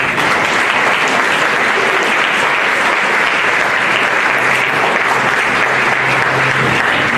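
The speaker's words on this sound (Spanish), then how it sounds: "Démosle un fuerte aplauso." Steady, loud audience applause filling the room after the introduction of a keynote lecture on organized crime, body identification and thanatology, a dense continuous clatter of many hands with no voices over it.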